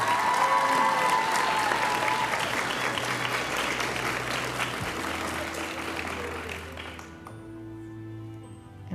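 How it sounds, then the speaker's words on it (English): Steady audience applause fills a nursing white coat ceremony, many hands clapping in a dense, continuous patter that holds for several seconds, with a low sustained tone underneath, before the clapping fades out near the end. "you can give a big round of applause for all of our nursing students that are white-coated today"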